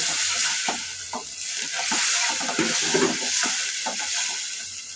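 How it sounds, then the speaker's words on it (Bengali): Onions frying in a pan, a steady bright sizzle with soft scraping and stirring knocks running throughout, close and continuous, no voices. "আমি পেঁয়াজটাও আপনারা ভেজে নিচ্ছি"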